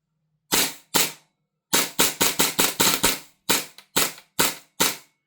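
An airsoft Glock fitted with an Airtac HPA shot shell adapter dry fires about thirteen sharp, loud snapping cracks, a few spaced shots and then a rapid run, with no talking.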